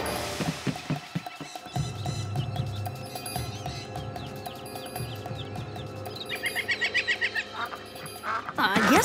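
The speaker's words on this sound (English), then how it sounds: "Downy Mallard's houseboat and bird sanctuary." Cartoon ducks quack repeatedly around a houseboat bird sanctuary, mixed with busy animated sound effects and music, with a brief burst of rapid quacking near the end.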